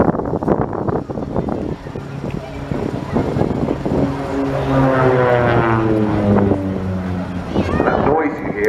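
Propeller aircraft with a T-tail flying overhead at the English Riviera Air Show, a loud steady drone with a rising and falling pitch sweep as it passes, continuous with crowd voices and talk over it.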